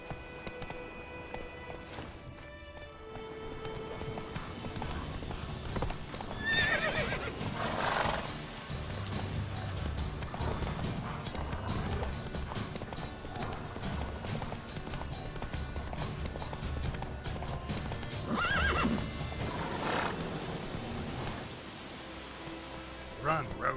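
Horse hooves clip-clop at a gallop in the Witcher 3 video game, with bursts of neighing and whinnying over a rushing ambient bed, steady hoofbeats running throughout at moderate loudness.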